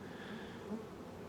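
Bees buzz in the Factorio video game with Pyanodon's mod, a faint, steady insect drone that stays soft and unbroken throughout.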